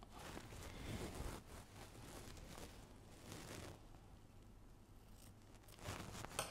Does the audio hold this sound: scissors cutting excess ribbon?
yes